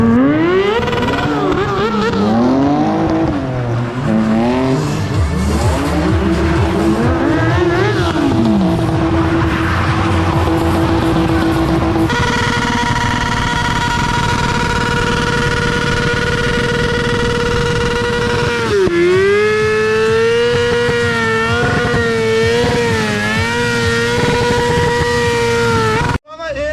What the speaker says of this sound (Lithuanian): važiuoja 2 ratais pas publiką